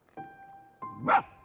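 A fox in the video game Spirit of the North gives a few short barks. Two or three clipped yips sound in quick succession against near-silence, and the last one is the brightest.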